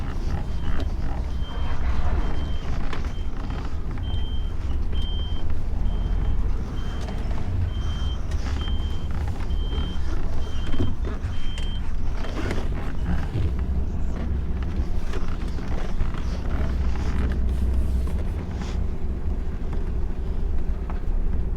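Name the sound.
truck reversing a step frame trailer, reversing beeps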